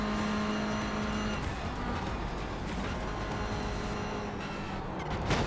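Mazda race cars pass in the iRacing sim while racing a Ferrari GT3, steady loud engine whine with tonal drones and a brief tire squeal, continuous throughout.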